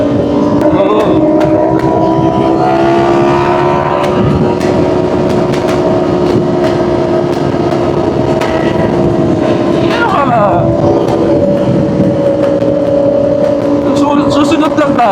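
Ducati motorcycles with loud exhausts ride in a group, a steady, close engine roar droning continuously throughout with small rises in pitch, while wind rushes past and a rider talks over it.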